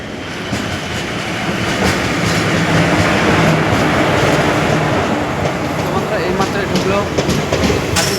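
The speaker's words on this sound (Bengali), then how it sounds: "এখন আমাদের ট্রেন ঢুকছে সেই খাগড়াঘাট রেলওয়ে স্টেশন আর এই যে ট্রেন আসছে" A passenger train rumbles loudly into Khagraghat railway station, its wheels clattering rhythmically over the rails with occasional metallic clicks, while a voice talks over the noise.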